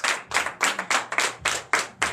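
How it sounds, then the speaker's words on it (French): A church congregation claps loudly at a Sunday service, a close, rapid run of hand claps with a fairly even rhythm and no voices over it. "je vous demande d'applaudir très très fort ce matin"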